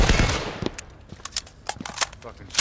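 Video game gunfire aimed at a grenade: a loud opening blast gives way to a string of sharp, irregular shots that keep cracking at close range.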